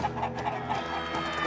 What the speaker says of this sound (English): Okay, the chicken.